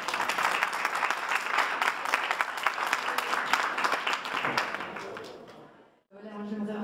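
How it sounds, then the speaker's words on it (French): A seated audience applauds warmly for about six seconds with dense, even clapping, then stops abruptly and a voice starts speaking. "Applaudissez-la encore."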